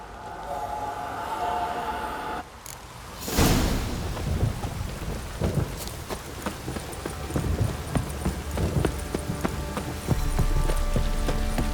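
Steady rain pours down in The Witcher 3: Wild Hunt with a loud thunderclap crashing in after a few seconds, followed by continuous rumbling and patter.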